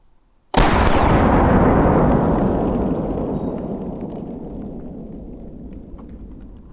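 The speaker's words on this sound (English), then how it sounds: "we're gonna shoot this one out of the BCM with the longer barrel to give it maximum velocity" A single loud, close gunshot from a BCM AR-15 with a longer barrel firing a green tip .223 round at a kettlebell, a sharp blast that rings out and decays slowly over several seconds.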